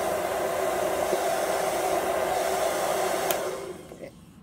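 Remington hair dryer blowing on its highest heat setting, a steady loud broadband whoosh with a constant motor whine that cuts off near the end and spins down.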